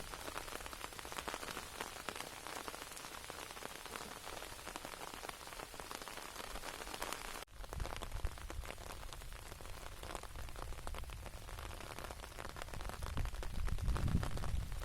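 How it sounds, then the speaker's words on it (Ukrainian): Quiet summer rain patters steadily on white yucca blossoms and lilies, a soft dense hiss of drops with no voices, swelling slightly with a low rumble toward the end. "Мелодія тихого літнього дощу"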